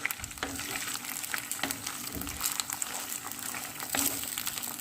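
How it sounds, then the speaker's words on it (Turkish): Rinsed, drained rice toasts in hot fat in a pan for pilaf, giving a continuous soft sizzle and crackle with periodic stirring scrapes and no talking. "İyice karıştırarak kavuruyoruz."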